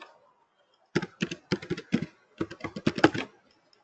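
Keys tapped on a computer keyboard in a lab while typing a password, several quick bursts of close, crisp clicks with short pauses, alone and without talk.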